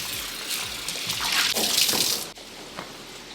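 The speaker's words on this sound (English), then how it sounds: "it's gonna take literally seconds to basically soap it up and then rinse it off" Running water splashes over a ceramic-coated pan being rinsed in a sink, a steady hissing rush with brief shifts as the pan moves under the stream.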